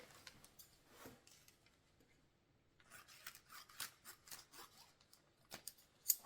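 Scissors snipping the ends off small beans, a run of quiet crisp snips and rustles, close by and faint, with a brief pause in the middle.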